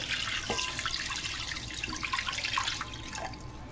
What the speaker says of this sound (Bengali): এইবার দিয়ে দেব 1 লিটার জল।